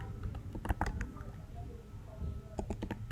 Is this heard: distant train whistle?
no